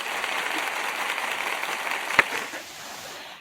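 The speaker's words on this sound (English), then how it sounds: "I saw that they had this applause" Canned applause from an event sound system after a guest introduction, a steady crowd-like clapping wash that runs throughout at moderate level, with one sharp click near the end before it tapers slightly.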